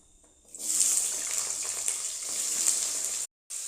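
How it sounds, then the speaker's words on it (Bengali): Potatoes drop into hot oil tempered with whole spices and a loud, steady sizzle bursts up at once, crackling evenly for a few seconds before cutting off briefly and then resuming. "তেলেতে ফোড়ন দিয়ে দিয়েছি এবার দেব আলু"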